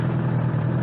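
A 2009 Honda CBR1000RR Fireblade motorcycle with 44,000 km on it, its engine giving a steady, close, throbbing low rumble for under a second with no voices.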